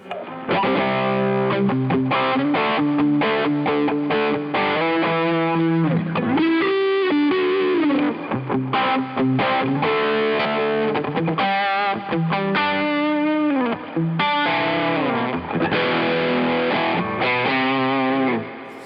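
Electric guitar through an overdrive pedal at full gain plays a continuous run of chords and riffs, thick and saturated, with no talking.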